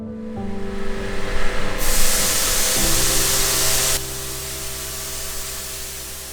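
A nozzle bursts out artificial fog with a loud, rushing hiss that starts abruptly, holds for about two seconds, then drops to a softer spray over a steady low mechanical hum.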